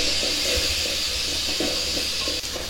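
Cut tomatoes and cinnamon sticks fry over medium heat in a pan as part of a chicken curry, giving a steady loud sizzle and hiss with small crackles and pops through the whole stretch.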